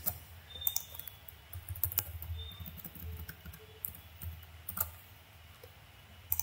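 Soft clicky keystrokes on a computer keyboard while code is typed into MATLAB App Designer, coming in quick irregular bursts with short pauses, fairly quiet and close.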